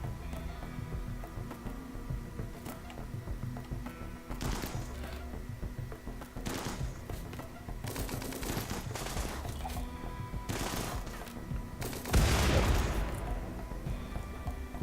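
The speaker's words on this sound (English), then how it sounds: "Grim, you're shooting friendlies." Bursts of gunfire in the colony sim game Rimworld, with repeated rapid shots and volleys clustering in loud waves over a steady game background, with no talk.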